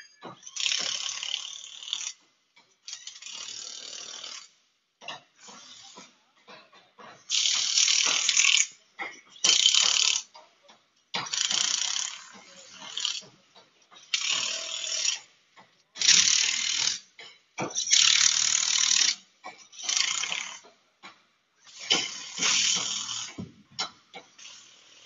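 Automatic power tools run nuts onto screws while submersible water pumps are assembled, giving repeated buzzing ratchet-like bursts of a second or two each, with short gaps between them, fairly close and loud, and no talking.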